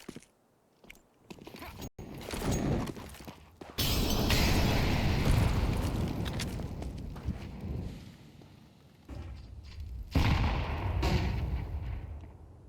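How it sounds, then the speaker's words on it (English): A flashbang grenade in a Counter-Strike esports match: sharp gunfire-like cracks, then a loud sustained burst of noise that fades and swells again, with no talk over it. "Flashbang around the corner."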